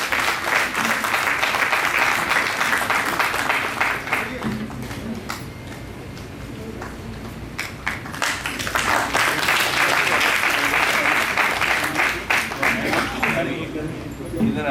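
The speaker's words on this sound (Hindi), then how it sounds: "जोरदार तालियां बजाकर स्वागत करिएगा, अभिनंदन करिएगा" Loud, sustained applause from a large crowd welcoming honoured guests, the families of freedom fighters and martyrs, at a ceremony; the clapping dips briefly midway, then swells again and continues dense and near throughout.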